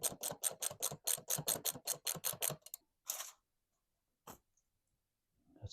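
A ratchet wrench loosening the gearbox drain plug on a Kubota BX2360 tractor gives a quick run of about a dozen crisp, close clicks, then a few scattered clicks and near silence.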